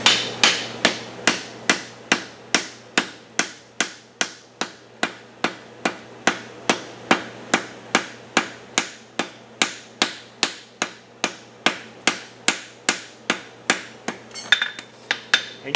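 Hammer blows on hot steel forge-welding a two-piece bevel horseshoe at the anvil: around forty sharp ringing strikes in a fast, steady rhythm, close and alone.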